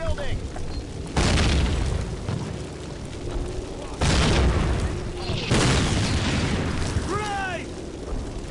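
Several heavy grenade blasts in a Call of Duty match boom out at intervals, each a loud broadband burst with rumbling tails, mixed with game chatter and someone talking over the action.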